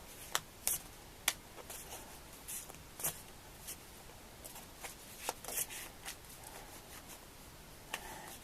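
Light papery riffling and sharp flicks of cards being shuffled, irregular bursts close by against quiet background, no talking.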